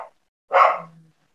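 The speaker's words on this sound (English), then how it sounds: "my dog's barking" A dog lets out a single sharp bark close by, trailing into a short low whine, with silence around it.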